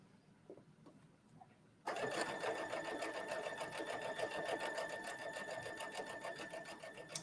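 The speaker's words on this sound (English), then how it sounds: "As you can see, I just stitched on the cotton there." A sewing machine stitching cotton on a trench coat hem starts up after a quiet moment and then runs continuously with a fast, even whirring chatter close by.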